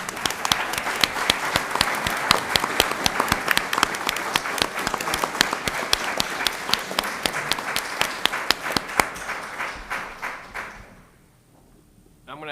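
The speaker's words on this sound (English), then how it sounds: "Let us applaud you." A room full of people claps steadily for an assistant principal at a school board meeting, dense, even applause lasting about ten seconds before it fades out, followed by a voice.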